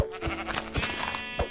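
Sheep in the video game Minecraft bleat several times in quick, wavering calls over about a second and a half, clear and close, with soft thumps between them.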